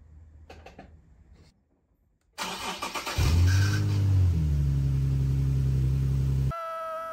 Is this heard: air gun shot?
no